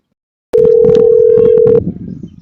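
A steady, loud electronic tone sounds during a call being transferred to Jio customer care. It holds for over a second above muffled line noise and voice-like sounds, then cuts off into quieter line noise.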